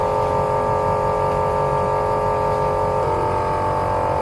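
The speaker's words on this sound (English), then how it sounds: "Turn on the vacuum pump" A laboratory vacuum pump runs with a steady, loud mechanical hum and whir that holds constant throughout, its pitch dropping slightly partway through, with no voices.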